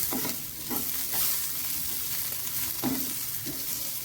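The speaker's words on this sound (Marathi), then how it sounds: "त्याला पण मंद आचे असं छान भाजून घ्यायचं आहे" Small tomato frying with onions in a pan on a low flame, giving a steady close sizzle with a few soft stirring scrapes spread through the sound.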